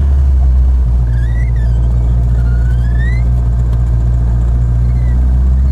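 A Land Rover engine rumbles low and steady while driving slowly, a loud continuous drone with faint squeaks over it.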